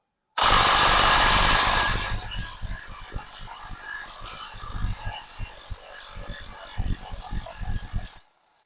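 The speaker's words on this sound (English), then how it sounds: "We're going to put a wrench on one side." A wrench breaks loose a tight sway bar end link bolt on a Ford Excursion, with a sharp loud burst of metal strain at the start, then a series of rapid ratcheting clicks and knocks.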